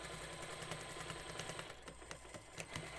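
A sewing machine back stitches along a pillow case seam, a quiet steady mechanical whir with a light rapid ticking, close by, with no voices.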